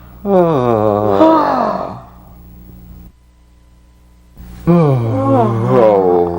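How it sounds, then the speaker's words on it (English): A person yawning loudly, two long voiced yawns with rising then falling pitch separated by a quiet pause, close and clear with no other talk. "Yawning."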